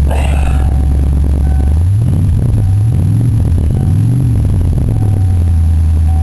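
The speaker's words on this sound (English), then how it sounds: "And rev her up a little bit." A vehicle engine idles loudly and close, then is revved in a few gentle rising and falling swells before settling back to a steady idle.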